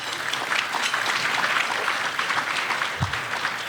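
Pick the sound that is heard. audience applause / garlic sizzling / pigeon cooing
audience applause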